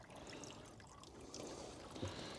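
Water drains away to waste from a garden pond's biofalls filter, a steady close wash of pouring and trickling water with a brief splash near the end, and no voices.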